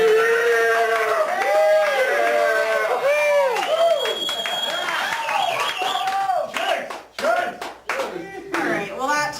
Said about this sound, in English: what are you really clapping at?